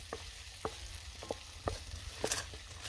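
A small onion fries in a smoking-hot wok on a Trangia camping stove, a soft continuous sizzle broken by several sharp stirring clicks and scrapes, close and fairly quiet.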